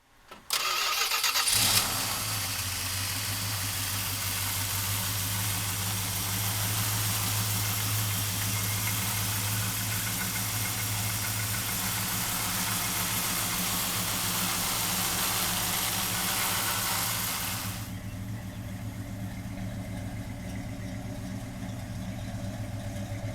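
A 1972 Plymouth Duster with a 340 V8 cranks and catches within the first two seconds, then settles into a steady, loud, rumbling idle that drops slightly in volume near the end.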